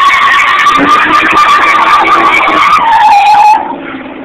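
A car does a loud, sustained tire burnout in a barn, with a continuous screeching squeal over a roaring engine that drops off abruptly near the end.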